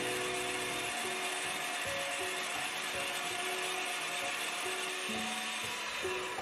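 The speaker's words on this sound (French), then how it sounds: "Continue de fouetter la meringue 6 à 8 minutes jusqu'à complet refroidissement" A stand mixer whisking meringue at medium-high speed gives a steady, loud motor whir with rhythmic beating of the whisk, continuous and close.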